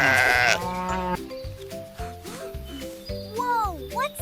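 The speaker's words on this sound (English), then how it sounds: "Look, It has white, curly wool. White. Wool. Sheep." A sheep bleats loudly in a cartoon farm setting, a wavering cry followed by lighter animated bleats over a bouncy children's music backing.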